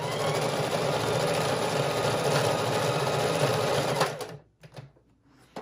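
A sewing machine runs steadily for about four seconds, stitching a fabric junk journal cover with a fast, even mechanical whir. It then stops, and a few faint handling sounds follow.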